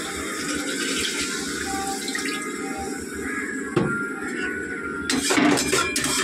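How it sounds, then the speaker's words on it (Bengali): Water poured from a tap into a pan of cooking spices, a steady close splashing wash with a few clatters of utensils and a louder gush near the end. "একটু জল দিয়ে দেবো।"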